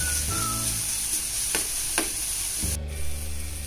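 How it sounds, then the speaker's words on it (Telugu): Tomato pieces fry with ginger garlic paste in a pan for a cheese bread pocket filling, giving a steady close sizzle with two brief stirring scrapes midway and a louder burst of sizzling near the end. "దీనిలో టొమాటో ముక్కల్ని కూడా వేసి బాగా కలిపి కొద్దిగా ఫ్రై చేసుకోవాలి."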